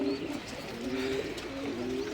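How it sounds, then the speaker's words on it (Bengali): Pigeons coo softly in a loft, with low repeated rolling calls from several birds close by, and a faint chirp in the background. "এই দেখেন কবুতরগুলা"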